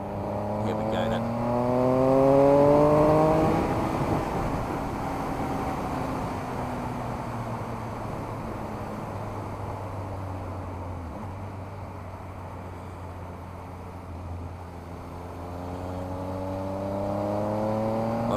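A Triumph Speed Triple S motorcycle on a test ride accelerates hard in sport mode on a muddy road, its engine rising in pitch through the gears over steady wind rush.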